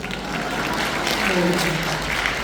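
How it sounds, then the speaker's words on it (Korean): Seminar audience gives a short burst of applause, a continuous blur of clapping hands with a voice murmuring underneath partway through. "간에게 박수 한번 쳐주십시오"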